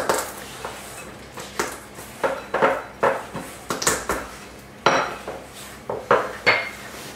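Spoon or spatula mixing cookie dough with hazelnuts and chocolate chips in a bowl, a close series of irregular knocks and scrapes against the bowl, loud and uneven, with no speech.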